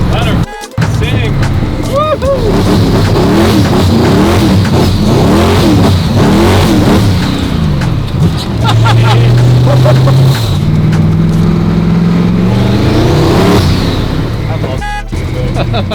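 Lamborghini engine after a performance upgrade, revving hard and roaring loudly on a wet street, with rising and falling bursts of throttle and a long climbing drone, while people cheer and talk over it.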